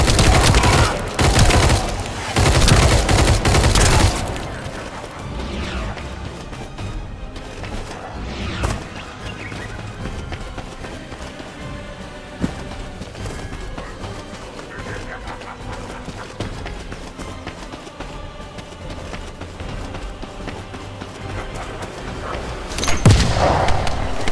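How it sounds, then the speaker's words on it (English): A burst-fire gun in the shooter game The First Descendant fires loud, rapid volleys for the first few seconds, then stays quieter under background game sounds until another sharp burst near the end. "I'm liking this gun. I like the burst."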